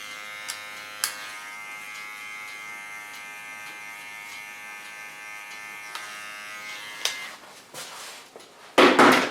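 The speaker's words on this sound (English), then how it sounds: "Go to my small clipper again. Clean the contour line." A small electric hair clipper buzzes with a steady, close, high hum while cleaning up a contour line on a client's hair. It cuts off near seven seconds, followed by a few clicks and handling knocks.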